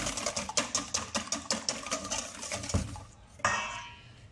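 A whisk beats a coconut flan mixture of eggs in a bowl, giving fast rhythmic metallic clinks and scrapes close by, then a brief pause and a final scrape, with no speech over it.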